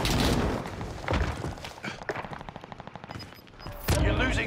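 Rapid gunfire rattles in Call of Duty: Modern Warfare multiplayer, loud bursts of automatic shots in a quick even rhythm mixed with heavier thuds, with game voice lines heard amid the shooting.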